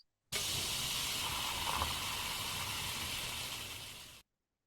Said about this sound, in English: This is a sprinkling water sounds.